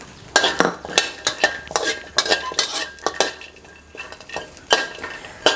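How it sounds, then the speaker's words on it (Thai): Shallots and garlic stir-fried in a pan for a Thai green chili dip with sweet peppers, a metal utensil scraping and clinking against the pan in irregular repeated strokes over a soft sizzle, with no talking. "เราก็ จะคั่วนะครับ หอมแดงครับ แล้วก็กระเทียมต่อเลยนะครับ"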